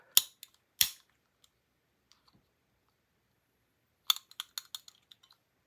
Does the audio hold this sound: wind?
no